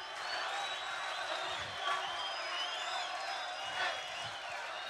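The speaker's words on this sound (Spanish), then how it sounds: "Fuerte el aplauso para Pochi, el ídolo de la gente" Audience applause with some cheering for comedian Pochi Chavez at a stand-up comedy show, a steady, fairly distant wash of clapping from a crowd that holds through the whole stretch with small swells.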